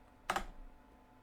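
A brief burst of a few quick computer keyboard keystrokes, close and clicky, followed by quiet.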